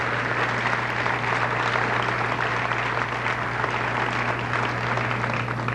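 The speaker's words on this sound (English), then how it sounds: "I think she deserves a big round of applause as well" A junior high graduation audience applauds a teacher, with dense, even clapping from a large crowd in a hall. It stays steady and loud throughout over a low constant hum.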